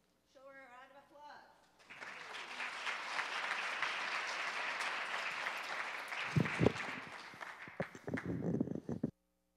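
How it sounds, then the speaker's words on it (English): An audience applauds at a wearable tech fashion show, with steady clapping lasting several seconds after a brief spoken introduction and ending in a few louder claps and footsteps. "Let's show her a round of applause."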